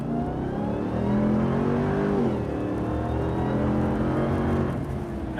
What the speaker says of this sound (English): That supercharger whine is so fun. To hear that in a pickup truck is pretty entertaining.